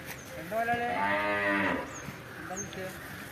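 A water buffalo at a livestock market lets out one long, loud, harmonic moo lasting over a second, close by, with faint background ambience and brief sounds afterward.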